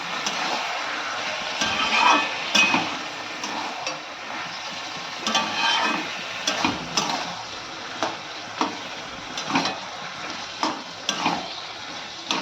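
Cooked vegetables and boiled spinach stirred together in a pan, with rhythmic scraping strokes repeating over a constant sizzle, close and fairly loud, no speech.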